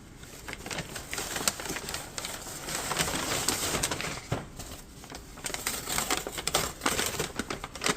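Crinkling plastic bag being pulled and torn as a yellow-jacket wasp nest is worked out of it, with dense, continuous rustling and scraping close by and no talking.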